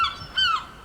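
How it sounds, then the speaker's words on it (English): A seagull gives a short, loud, nasal squawk outdoors: two quick rising-and-falling cries within a second, fairly close, with no talking. "because the seagulls have started"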